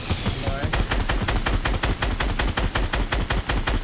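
Rapid automatic gunfire in the video game Fortnite, a fast, evenly spaced stream of sharp shots sustained throughout, loud and close with no pauses.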